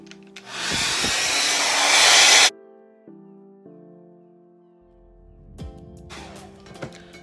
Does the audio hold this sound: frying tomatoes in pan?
no